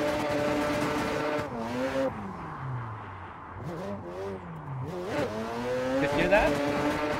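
Loud, close rotary engine of a Mazda RX-7 FD drift car revving up and down through repeated throttle blips, with tires squealing through the slide and the pitch climbing again at the end.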